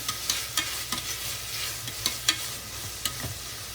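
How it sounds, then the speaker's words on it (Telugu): A vegetable mixture for moong dal khichdi is being roasted in a pan: a continuous soft frying hiss runs under repeated clicks and taps of a spoon stirring, close and moderately loud, with no voices. "ఈ వెజిటేబుల్ మిక్చర్ మొత్తం బాగా రోస్ట్ లాగా అవ్వాలండి."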